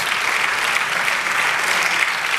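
A church congregation applauds during a sermon, a thick, continuous wash of clapping from many hands that stays even and fairly loud throughout, with no talk on top.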